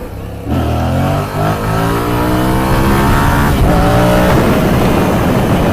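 A Yamaha MT-07 motorcycle revs hard in second gear for a wheelie, its engine note climbing steadily and loud throughout, close to the microphone with constant wind noise.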